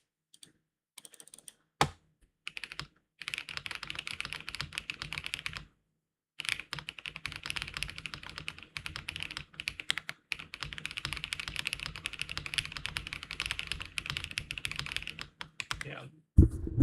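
A gasket-mounted custom mechanical keyboard is typed on close up, giving a steady run of soft, dense keystroke clacks with a few short pauses and one longer break.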